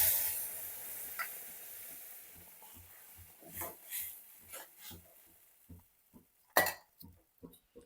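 A spoon stirs a moong soup mixture in a pan, giving quiet, irregular scraping and clinking taps at close range with a soft hiss behind them and one sharper clink.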